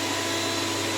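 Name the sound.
blender mixing squash and milk for squash pie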